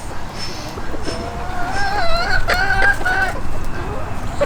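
Chickens in a breeding flock, including a prized hen, giving a run of close, clear clucks and drawn-out calls in the middle of the stretch over a low background hum.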